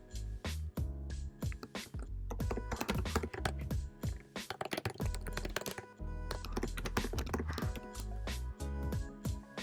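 Rapid typing on a computer keyboard, close and crisp, with bursts of clustered key clicks and brief pauses running for nearly ten seconds with no voices.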